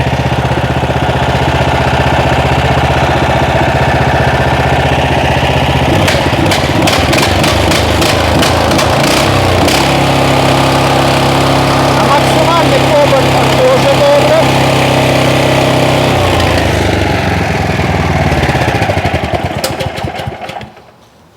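A Loncin small engine runs loudly and close, a steady idling chug that picks up with revving bursts in the middle before settling and cutting off at the end.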